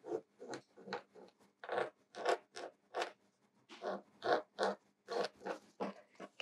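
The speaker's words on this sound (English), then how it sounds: "I'm going to fold it in half and then fold it in half again." Fabric being folded in half and then in half again for sewing inset circles, giving a series of soft rustling and brushing swishes close by, steady and fairly quiet, with no talking.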